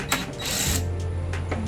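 T25 Torx screws are backed out of the front grille of a Mini Countryman R60 Cooper S, with close, rapid ratcheting clicks and mechanical whirring over a low steady hum.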